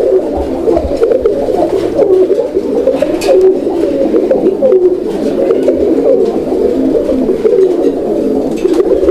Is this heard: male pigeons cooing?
yes